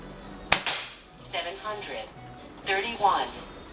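A BSA Goldstar SE air rifle fires a single sharp, close crack with a short ringing tail, followed by someone talking over the moments after the shot.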